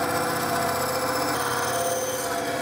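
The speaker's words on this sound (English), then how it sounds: "I'm actually gonna cut this on the bandsaw so I can put a nice bevel on these parts" A bandsaw cutting costume parts at a bevel, a loud steady machine hum and whine holding even from start to finish with no pauses.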